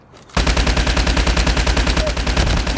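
Rapid automatic gunfire from the Honey Badger rifle in a phone shooter game, a loud, dense burst of evenly spaced shots that begins abruptly after a brief quiet moment.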